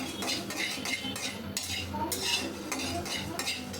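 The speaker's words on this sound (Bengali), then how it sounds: "আমি প্রথমত শুকনো মরিচ শুকনো খোলায় ভেজে নেব" Dried red chillies dry-roasting in an empty pan, with steady scraping and stirring of a utensil against the metal and faint crackle throughout, close and fairly loud.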